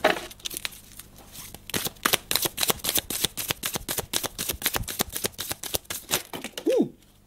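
Oracle cards shuffled and drawn: a rapid, close run of crisp papery flicks and riffles that speeds up midway, with a brief soft vocal sound near the end.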